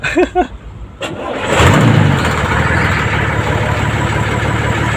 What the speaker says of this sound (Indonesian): Coba kita hidupkan ya, friend. Kayak apa ini suaranya ini?